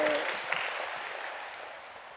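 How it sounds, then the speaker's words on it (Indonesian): Audience at a large outdoor religious gathering breaks into steady applause after an Islamic preacher's call, a dense wash of many hands that fades slightly over two seconds. "Tepuk tanganlah dulu."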